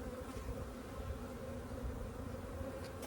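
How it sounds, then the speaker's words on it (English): Honeybees swarm thickly over a nucleus hive frame, their buzzing a dense, steady drone that stays close and constant throughout. "these bees are just crazy thick on there"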